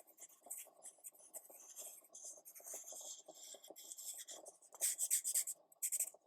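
Image transfer material being cut, with a run of soft scratchy cutting and scraping strokes close by, growing louder and sharper near the end, no voices.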